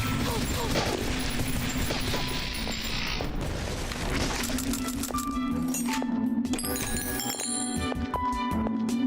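Zeta rifle gunfire in the video game Beyond, bursts of rapid shots followed by metallic clicks and clinks of reloading mechanisms, fairly close and loud, with someone speaking over parts of it.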